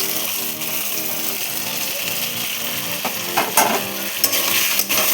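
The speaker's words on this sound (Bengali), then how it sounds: "এবার দিয়ে দেবো ভেজে রাখা পটলগুলো।" Pre-fried pointed gourds are tossed into an oily, cooked-down masala for doi potol, with a steady close sizzle under repeated scraping stirs and a few sharper knocks of the spatula toward the end.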